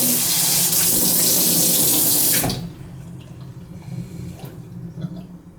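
A newly installed kitchen sink faucet runs in a loud, steady rush of water, then shuts off about halfway through, leaving quiet room tone with a faint trickle.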